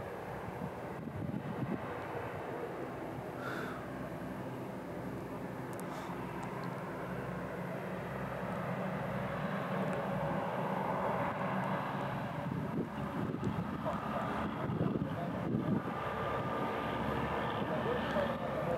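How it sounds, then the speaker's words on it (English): A low, distant rumble of a Virginia and Truckee Railroad train slowly grows louder as it climbs a hill toward the microphone, with wind buffeting the microphone. "the train is coming"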